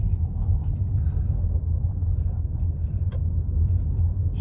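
A car rolls along an unpaved gravel road through the woods, giving a steady low rumble of tires and engine inside the cabin with a few faint clicks and ticks over it.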